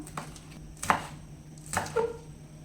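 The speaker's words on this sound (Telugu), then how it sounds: "వీటిని ఇలా చిన్నగా రౌండ్గా కట్ చేసుకుందాం." A knife chops three green chilies into small rounds on a board, three or four distinct crisp cuts spaced irregularly, close and fairly quiet with no talk.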